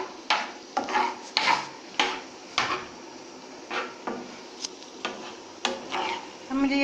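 A spoon stirring tea in a pot, a series of fairly close clinks and scrapes at an uneven rhythm over soft background noise.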